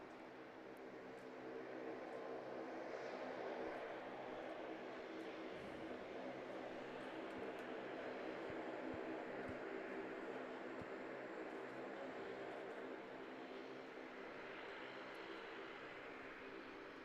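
An RNZAF C-130 Hercules arriving at Auckland Airport, its propeller engines producing a steady distant roar and drone that holds throughout with a slight swell.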